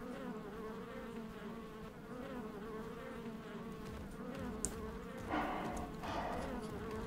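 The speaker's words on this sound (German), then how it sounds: "Wo summt das hier?" Continuous insect buzzing in the video game ARK: Survival Ascended, a steady droning hum that wavers slightly in pitch, fairly faint and alone in the game world, with a brief click partway through.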